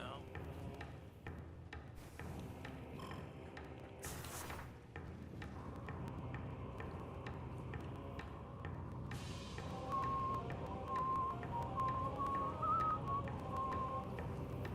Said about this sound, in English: I really can't help it. This song is so easy to whistle.